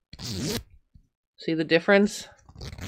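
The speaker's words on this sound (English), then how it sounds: "listen to the sound of me zipping up a regular metal zipper" A regular metal zipper on clothing rasps in a short ratcheting zip near the start, followed by a voice speaking briefly.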